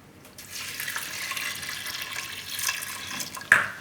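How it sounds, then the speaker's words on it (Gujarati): Water pours steadily into a pot of halved potatoes set to boil, a close splashing flow that starts after a brief pause and ends with a small clink near the end. "થોડુંક પાણી નાખી દઉં."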